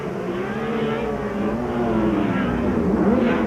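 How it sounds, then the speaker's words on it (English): A 1992 Formula 1 car at the Australian Grand Prix qualifying spins its rear Goodyear tyres with the accelerator floored, the engine holding a loud, continuous high-revving wail that wavers in pitch throughout. "he belted the accelerator and spun those rear Goodyears to make a great cloud of"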